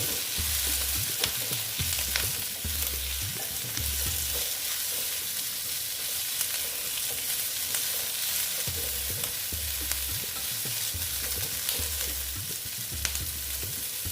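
Eight to ten garlic cloves frying in oil for a restaurant-style Afghani egg curry, a steady close sizzle with recurring low scraping stirs throughout.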